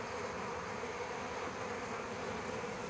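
Wasps buzz in a steady, continuous drone around a beehive, several insects humming together close by with no pauses.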